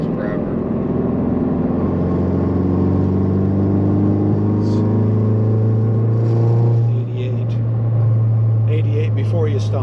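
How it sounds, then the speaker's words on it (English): A car fitted with a Baun Performance exhaust pulls hard in 4th gear from 50 to 70 mph, a loud, steady, rising engine drone with a deep exhaust note, recorded from inside the car. "So this is 4th gear, 50 through 70 miles per hour."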